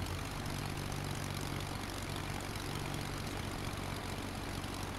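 Small propeller airplane engine droning steadily in flight at 5,500 feet over Tennessee and Arkansas, a loud continuous hum with a low steady tone filling the cabin throughout, no voices.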